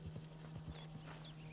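Horse hooves clip-clop in Red Dead Redemption, a few soft irregular thuds over a steady low hum, fairly faint and close with no voices.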